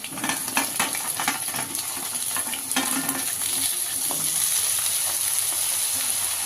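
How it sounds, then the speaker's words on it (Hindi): Potato and brinjal pieces fry in hot oil over a medium-to-high gas flame for an aloo baingan curry, giving a steady loud sizzle with scattered clinks and scrapes of stirring, and no voices. "तो यहाँ पे तेल अच्छे से गर्म हो गया। अब इसी में हम सब्जी को डाल देते हैं, आलू बैगन को।"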